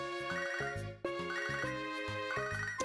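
A cheerful electronic phone ringtone from the Pokemon HeartGold game plays as a repeating melodic jingle, clear and alone, with a brief dropout near the middle.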